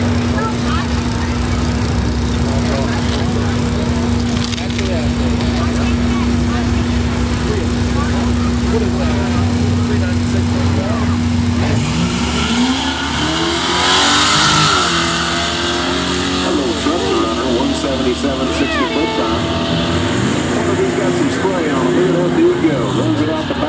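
Drag racing car on a solo run down the strip, a steady engine drone that rises into a roaring pass partway through, then fades with some trailing noise. An announcer talks over it.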